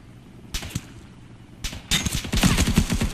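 Gunfire in the military video game Arma, Exile mode. Sharp shots come first as isolated bursts, then break into a rapid, dense string of close automatic fire, with no one talking.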